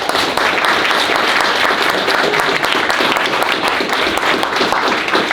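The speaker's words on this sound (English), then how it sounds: "Let's give them a round of applause." An audience at a school alumni panel applauds the recent graduates, a dense, sustained wash of many hands clapping at even loudness from start to finish.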